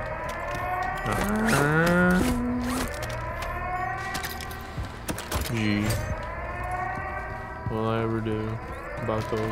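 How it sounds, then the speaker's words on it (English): Wailing sirens rise and fall repeatedly, layered with rumbling noise and sharp bursts, loud and close, in an action scene from the 2023 Modern Warfare III video game campaign. "Those sirens."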